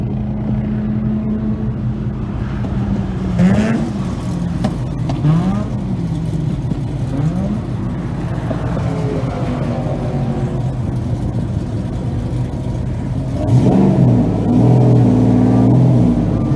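A Mazda RX-7 with a swapped Renesis rotary engine drives on the track at Atlanta Motorsports Park, heard from inside as a loud, constant buzzing drone. The engine rises and falls through shifts and climbs in a hard rev near the end.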